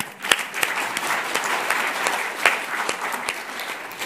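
An audience bursts into applause at a gathering on Dokdo and Ulleungdo, a dense, steady clapping with a few sharper individual claps standing out, sustained throughout without any speech.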